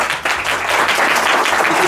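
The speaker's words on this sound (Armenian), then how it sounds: "Ծափեր։" A school audience applauds at a birthday surprise for a teacher, Mr. Poghosyan, in Lanjar: dense, steady clapping from many hands that holds at a loud, even level from start to finish.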